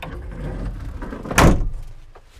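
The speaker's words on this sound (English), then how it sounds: "that closes the door" The cab door of a Kubota 95-2s tractor swings shut with one sharp latching thud midway, following a low rustle of handling, heard close up with no talking.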